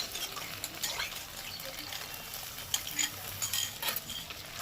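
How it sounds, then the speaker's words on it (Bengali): Yogurt fish curry masala with fennel paste being stirred in a pan over low flame, a soft continuous sizzle with gentle scraping and light clinks of a spoon, fairly faint and close. "আর একটু হালকা একটু জল দিয়ে এটাকে নেড়ে চেড়ে নেবে"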